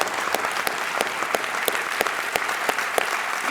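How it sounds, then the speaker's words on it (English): A seated audience gives a round of applause at a live conversation event, brisk dense clapping with a few sharp individual claps standing out, near and continuous. "We have a round of applause, please, for them."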